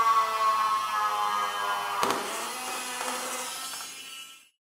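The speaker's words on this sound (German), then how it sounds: "Da der Hintergrund auf einer stabilen Platte aufgezogen ist, müssen zunächst Löcher für die LEDs gebohrt werden." Power drill boring holes into a sturdy board for LEDs on a model railway backdrop, a steady whirring grind that rises with a sharp bite midway, then cuts off abruptly to silence.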